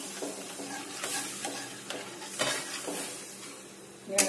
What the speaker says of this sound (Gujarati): हवे आपणे बराबर हलावशुं.